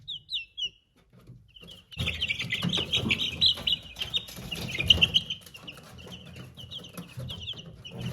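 Young chicks in a henhouse with cup drinkers peep in quick, high, scattered chirps, first a few isolated cheeps, then a busier flock chorus over soft shuffling and rustling nearby.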